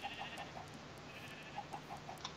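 Sheep bleats from the Minecraft video game, several short repeated calls spaced across the clip with a lull in the middle, moderately loud over a steady background of game ambience.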